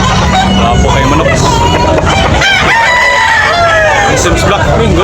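Roosters crow and chickens cluck amid a busy crowd of chattering voices and bustle at a chicken market in Tabunok, Talisay, Cebu, loud and continuous throughout.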